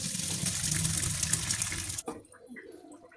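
Cooked macaroni being drained, with a steady loud rush of water pouring through for about two seconds before it cuts off abruptly, leaving faint clatter and handling noises.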